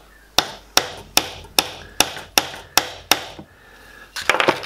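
Eight evenly spaced metal hammer strikes ring out sharply, close up, using a drill bit holder as a punch on a fountain pen, followed by a quicker cluster of clinks and knocks at the end.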